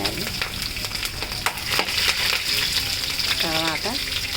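Green chilies frying in hot oil for pulihora give a dense crackling sizzle with sharp pops and stirring clinks. A voice is briefly audible near the end.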